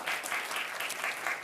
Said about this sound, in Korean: 감사하다고 박수 한번 쳐주십시오.